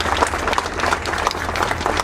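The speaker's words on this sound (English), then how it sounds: "please give them a round of applause" Brief, steady applause from a crowd at the opening of the Silver Lake library, dense clapping heard close for a couple of seconds.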